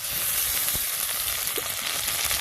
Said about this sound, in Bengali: আদা রসুন একটু ভেজে নেবো, যাতে কাঁচা গন্ধটা যাবে